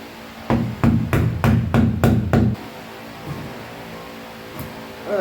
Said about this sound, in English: So I'm just going to take a screwdriver and hammer